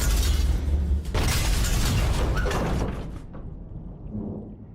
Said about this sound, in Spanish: Están atrapados en esa lata diminuta con explosiones que sacuden el barco.